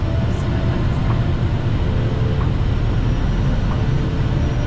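Airbus A320 airliner on final approach to land at Hamburg airport, a steady loud broadband roar and rumble of engines and airflow heard from inside the cabin, continuous and unchanging throughout.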